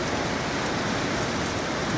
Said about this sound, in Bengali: বসে বসে বৃষ্টি দেখতে লাগলাম